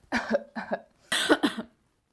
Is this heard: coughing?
yes